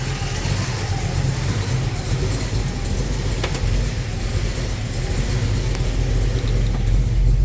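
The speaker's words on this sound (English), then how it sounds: "let's put it in gear and see if the engine stalls this time." A Ford Falcon with a 302 small-block V8 idles with a deep, steady rumble, the loud, even low-end throb holding continuously as it is shifted into gear, with no speech.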